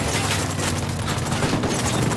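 Gunfire in the video game Ghost Recon Wildlands comes as a dense, continuous barrage of overlapping shots and booms, loud and unbroken for the whole stretch, with no voices over it.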